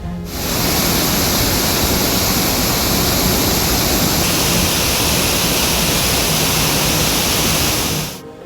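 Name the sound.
flooded waterfall, rushing water after heavy rain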